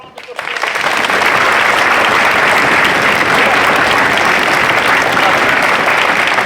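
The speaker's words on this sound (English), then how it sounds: "So let's give those a round of applause" Applause from a presentation audience for the Royal Marine Corps of Drums organisers swells within the first second into a loud, sustained roar of clapping that holds steady to the end.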